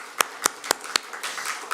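Claps welcome a pastor in a church service, heard as four sharp, evenly spaced claps followed by a softer wash of scattered clapping, fairly close and without talk.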